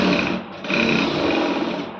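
A sewing machine stitches a folded fold of fabric, a steady close motor whir running throughout with a short dip partway before resuming.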